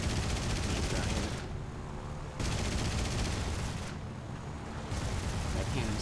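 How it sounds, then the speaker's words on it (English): An aircraft cannon firing in War Thunder from an I-301 fighter, two long rapid bursts of heavy automatic fire separated by short pauses, loud and close over a droning engine. "That cannon sounds cool all by itself."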